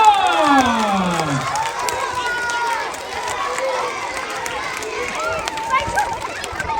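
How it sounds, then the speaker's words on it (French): A crowd of children and adults cheers and shouts for the Versailles team at a family water-themed show, high excited voices rising and falling over a dense, steady roar with little clear clapping. "on peut applaudir toute la team de Versailles"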